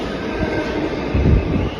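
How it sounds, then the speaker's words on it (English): A subway A train to the airport rumbles past with a steady roar, swelling briefly louder midway, no voices present. "That's the A train to the airport."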